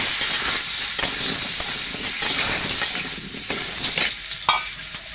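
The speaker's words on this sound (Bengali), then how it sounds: "খিচুড়ির জন্য কুমড়ো আলু ভাজা হয়ে গেছে" Cut potato and pumpkin fry in hot oil for khichuri, a loud continuous sizzle and hiss broken by repeated spatula stirs and scrapes, close up with no talking.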